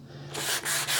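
A guitar neck's back being sanded by hand with a flat sanding block: a quiet start, then about three close, scratchy back-and-forth strokes with brief gaps between them.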